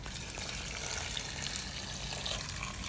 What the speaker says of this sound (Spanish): Vamos a echar poquita agua.